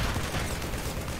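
Dense, continuous burst of gunfire from the video game Half-Life, a steady rattling barrage of shots with no pauses, loud and close throughout.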